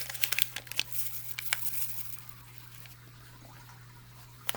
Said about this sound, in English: Use my scissors to cut it open.